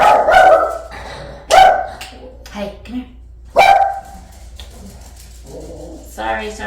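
A dog barks loudly and nearby in three sharp bursts with softer yips and whimpers between them, while a person calls to it.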